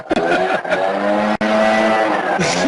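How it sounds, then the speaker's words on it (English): A loud car exhaust revving just outside a closed window, the engine roaring in sustained, rising and falling bursts with one brief drop near the middle before it surges again. "So the exhaust was literally hitting my window, and the sound is still coming straight through."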